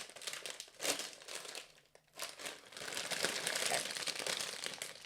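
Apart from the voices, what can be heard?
crisp packet crinkling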